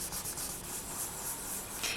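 A polymer clay veneer being burnished flat gives a soft, continuous rubbing scrape, quiet and close, with no talking.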